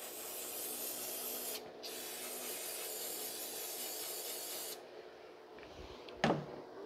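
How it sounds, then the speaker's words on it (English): Throttle body cleaner sprays into the throttle body of a 2006 Mazda 3 2.3, hissing continuously for several seconds with brief breaks, loud and close, then fades to a softer hiss with a small knock. "So we're just going to spray in there and then clean the throttle body."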